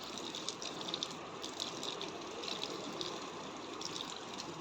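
Water poured onto plants, including a lemon tree, outdoors, a faint steady gushing flow running continuously without pause.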